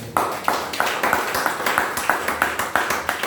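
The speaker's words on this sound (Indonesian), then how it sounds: "Tepuk tangan buat Tuhan kita." Church congregation clapping together in a steady, rhythmic beat during a worship service, sharp repeated claps about three per second, fairly close and loud, with no talk over them.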